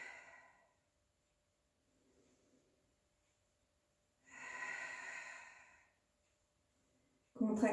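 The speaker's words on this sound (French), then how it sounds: "Expirez par la bouche." Breathy exhalations through the mouth during a Pilates exercise: a short puff at the start, a faint breath, then a long, audible sigh-like exhale, with a voice starting at the end.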